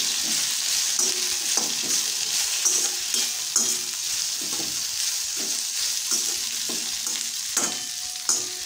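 Okra (bhindi) being stir-fried for masala vendakkai fry, with a steady sizzle of frying in a pan and repeated scraping stirs that keep a loose rhythm throughout, close and fairly loud, with no voices.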